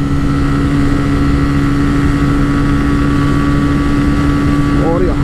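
A TVS Raider 125 and a Honda SP 125 run side by side in a motorcycle drag race, their engines a loud, continuous droning hum buffeted by heavy wind rush.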